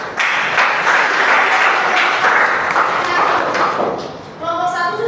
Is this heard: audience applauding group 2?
yes